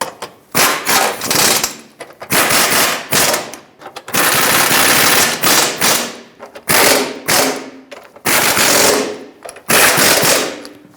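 Power tool bursts snugging bolts on a metal plate over a front lower control arm on a 2018-2023 Subaru Crosstrek, loud repeated rattling runs of about a second each separated by short pauses, close up.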